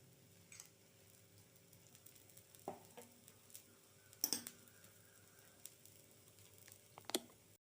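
A thin rice dosa fries in oil on a pan, with a quiet, steady sizzle and a few sharp clicks and taps from utensils, with no talking.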